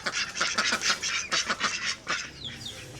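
Ducks quacking in a noisy flock amid jungle near a hostel in Indonesia, repeated overlapping calls close by, with no talk.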